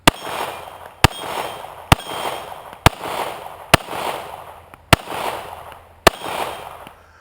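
Seven sharp, loud pistol shots from a Taurus Spectrum .380 pocket pistol fired at 12 yards, spaced roughly a second apart in a steady rhythm, each with a short ringing decay.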